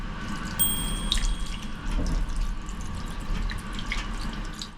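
Water runs steadily from a sensor tap into a sink in the washroom of a new Swiss double-deck train, a soft continuous splash with occasional drips, close and without voices.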